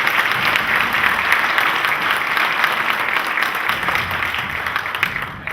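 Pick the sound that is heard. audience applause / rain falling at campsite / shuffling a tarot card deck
audience applause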